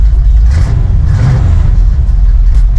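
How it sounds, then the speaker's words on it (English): Cold idle of a 1973 Chevrolet Nova engine, a loud, close, low rumbling with an uneven pulsing rhythm that runs continuously with no talk. "So we're idling. It's still cold."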